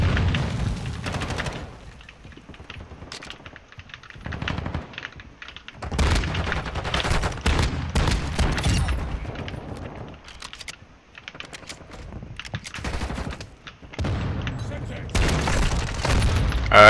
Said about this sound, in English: You've just shot me through the fucking stairs.